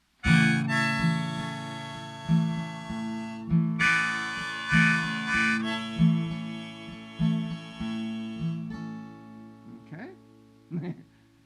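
Slow harmonica chords, each sustained breathy swell rising and fading in turn, played alone with a brief pause near the end.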